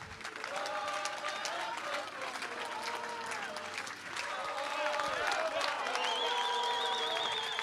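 Spectators at the Chaumont Urban Trail, a 24-hour, 170 km race, keep clapping for seven finishers arriving together; the continuous applause sits under voices and bits of tonal sound, dipping briefly before swelling again.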